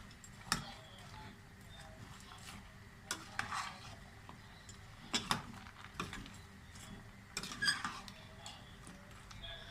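Prawns and ridge gourd cooking in a pan make a low, faint sizzle beneath several sharp utensil clacks and scrapes against the pan at irregular intervals.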